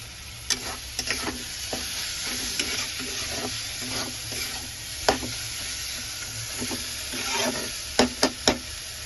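Masala sizzles steadily in oil for an egg curry while a spoon stirs it, with sharp ticks of the utensil against the pan at irregular moments over a constant close frying hiss, no talking.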